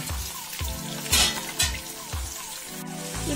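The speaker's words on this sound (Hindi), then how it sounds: "शुंठी बेळ्ळुळ्ळि पेस्ट हाक्ता इद्दीनि इन्नु ओंदु निमिष फ्राई माड्ता इद्दीनि" Ginger garlic paste fries in a pan for mushroom gravy, a soft continuous sizzle broken by rhythmic low stirring scrapes and knocks, close and steady with no voices.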